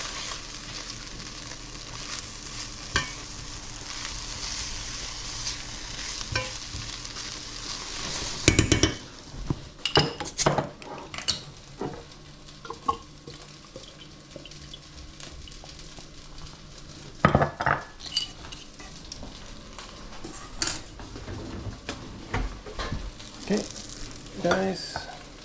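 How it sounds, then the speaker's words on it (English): Rice for paella fries in a pan with a continuous sizzling hiss, broken by frequent clinks and scrapes of a utensil stirring against the metal, louder after the first few seconds, with no talking. "Now I'm just gonna cook up the rice."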